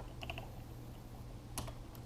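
Keys on a computer keyboard tap in a few quick, faint clusters of clicks against a low room hum, with no voices.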